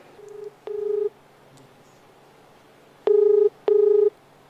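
Telephone keypad dial tones beep in separate pushes, a couple of short tones followed by two long loud ones, placed to call a lawyer, with no talk over them.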